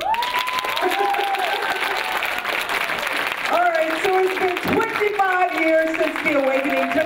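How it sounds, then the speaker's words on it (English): A theatre audience claps steadily throughout a stage performance of a song, with voices rising and calling out over the continuous applause. "Clap it up."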